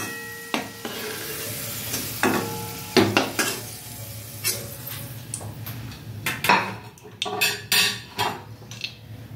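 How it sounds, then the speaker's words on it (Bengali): Onion stalks fry in a pan while being stirred, with a soft sizzle under repeated scraping and clinking of a utensil against the pan in irregular bursts, close and moderately loud; no talking. "বন্ধুরা পেঁয়াজকালিটা আমি একটু ভেজে নেব, পেঁয়াজকালিটা একটু ভেজে নেব।"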